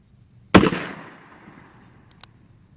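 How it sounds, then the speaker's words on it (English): A single sharp shot from a Smith & Wesson Model 1917 revolver chambered in .45 ACP, fired outdoors, with a loud crack and a long decaying tail, then two faint clicks afterward. "This gun shoots a little high."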